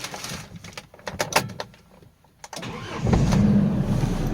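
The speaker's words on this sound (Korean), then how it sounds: "시동 껐다가 다시 걸어보겠습니다" A Hyundai Porter 2 truck with a six-speed manual gearbox is shut off and restarted: faint clicks and rattles, then the starter cranks and the engine catches, settling into a steady, close idle.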